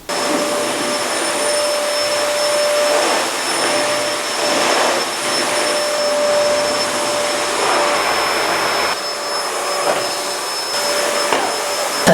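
A household vacuum cleaner runs steadily while the house is swept, a loud continuous whine with a high tonal note that shifts slightly as the nozzle moves, with no talking.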